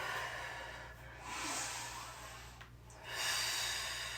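A slow, deep breath during the final hold of a yoga twist in an all-levels vinyasa class, a long soft airy inhale followed by a fuller exhale, close and alone.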